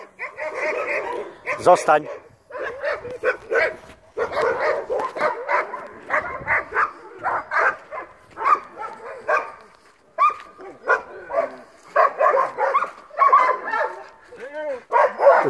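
Wire-haired dachshunds bark in short bursts during obedience training while a person talks almost continuously over them, the barking partly mixed into the speech.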